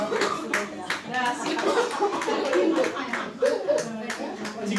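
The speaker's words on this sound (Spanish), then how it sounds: "Un aplauso a su compañera." Students clapping for a classmate in a classroom, a scattered round of hand claps mixed with chatter and light laughter.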